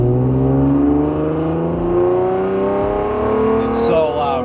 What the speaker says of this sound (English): this is a 3rd gear pull from 2000 RPM